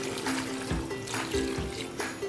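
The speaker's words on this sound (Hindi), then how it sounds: "मैं इसमें पानी डालूंगी।" Water poured into a pot of mixed fresh meat for Peshawari namkeen gosht, a steady close trickle and splash with a few louder gushes over a faint background hum.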